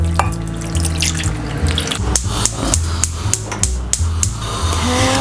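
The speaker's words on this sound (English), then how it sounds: "So I'm gonna add a bit of water to it and then cook it." Water runs steadily from a tap into a cooking pot, with splashing and clinks of the pot throughout, loud and close, no voices.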